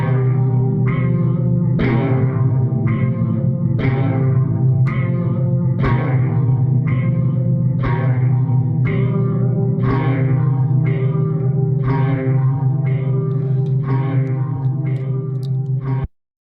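A free Witch Pig Kontakt instrument is played with heavy reverb and delay added, giving a steady pulse of repeated plucked notes over a sustained low drone whose echoing tails blur together, loud and continuous.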